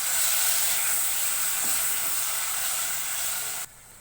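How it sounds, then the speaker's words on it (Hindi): Chopped tomatoes sizzling in a pan for chana masala, a loud, steady hiss of frying that holds evenly and then drops off abruptly near the end. "यहाँ मैंने मीडियम साइज़ के 3 टमाटर लिए थे, जिनको मैंने चॉप कर लिया है। इनको ऐड करेंगे,"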